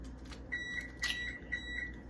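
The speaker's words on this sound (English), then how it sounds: "That's my oven beeping." An oven timer beeps in a steady series of short, high electronic tones, moderately loud against a low background hum.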